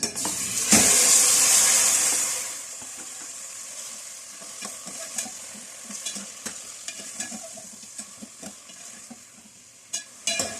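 Marinated chicken hits hot oil seasoned with bay leaf in a loud, sharp sizzling burst that eases after about two seconds into a steady, quieter fry with scattered stirring clicks and scrapes.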